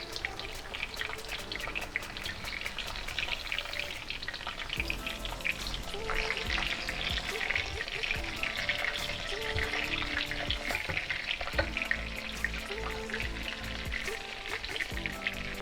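Cod fish nuggets sizzle steadily in a hot pan of oil, a dense continuous crackle and spatter that stays close and fairly loud throughout, with no talking.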